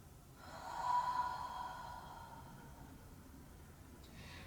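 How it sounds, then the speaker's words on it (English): One full, drawn-out inhale through the nose during a yoga session, rising quickly and then fading slowly over a few seconds, close and breathy against a quiet room. "Take a full breath in."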